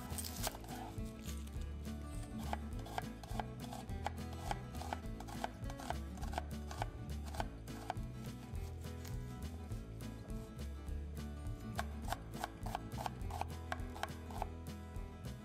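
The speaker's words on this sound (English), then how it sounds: "Cut nice little onion cubes." A knife chops onions into small cubes rapidly and steadily on a cutting board, a continuous run of crisp, close knocks with no talking.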